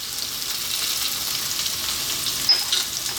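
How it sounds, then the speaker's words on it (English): Garlic sizzles steadily as it fries in a hot pan with cabbage, a bright crackling hiss broken by a brief utensil knock near the end. "We're now going to add in our garlic."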